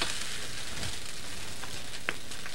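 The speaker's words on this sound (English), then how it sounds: "Stir them in." Ingredients for a Thai dish with garlic and anchovies are stirred into a hot pan, giving a constant close sizzle and frying hiss with a few scraping stirs and faint clicks.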